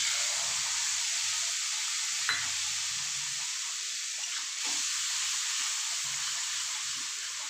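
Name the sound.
spice paste poured into hot pan, sizzling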